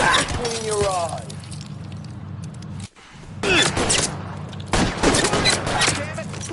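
Rapid bursts of gunfire from the L.A. Noire video game, loud sharp volleys with a brief gap, layered over game music and talk.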